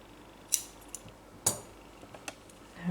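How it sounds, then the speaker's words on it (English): Scissors snip pink yarn during a crochet project, giving two crisp close clicks about a second apart followed by a few fainter metallic ticks in a quiet room. "And I'm going to cut the pink one."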